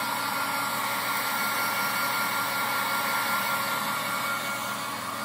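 A heat gun blows a constant, loud, steady rushing stream of hot air over cellophane and Tyvek plastic sheets, with no pauses or voices.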